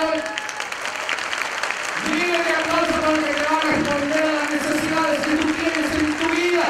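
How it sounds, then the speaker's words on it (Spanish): An audience at a Spanish-language healing service breaks into steady applause while someone speaks and sings over it through a sound system. "Yo me voy a pedir un aplauso."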